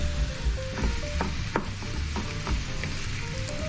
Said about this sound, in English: Add the ground beef and saute.